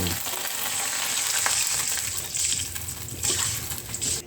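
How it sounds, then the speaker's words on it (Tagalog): Cabbage and mussels are sautéed in a pan, giving a steady, close hiss and sizzle with occasional stirring scrapes and swells and no talk. "Gisa-gisa lang ng konting ganyan."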